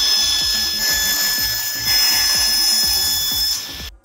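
Saw cutting through wood while making a woodworking cross cut sled, a steady loud whine with rhythmic low thumps running throughout before stopping abruptly near the end.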